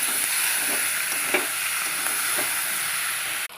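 Meat fries in a cooked-down spice masala with a constant loud sizzle and hiss, while a few soft scrapes of stirring break through now and then before a sudden thump at the end.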